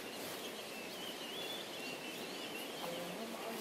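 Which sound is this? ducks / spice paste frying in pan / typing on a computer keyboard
ducks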